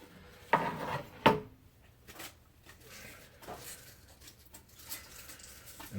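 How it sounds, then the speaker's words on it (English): Two crisp, crunchy knife chops through cabbage close by, followed by quieter scraping and rustling of leaves. "all I'm going to be doing is chopping up these 2 big old cabbages."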